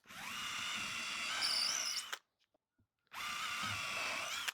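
An electric drill whines through drawer wood in two short bursts while boring a pilot hole, with a brief pause between them and no talk.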